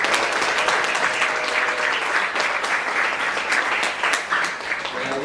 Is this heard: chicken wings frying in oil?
no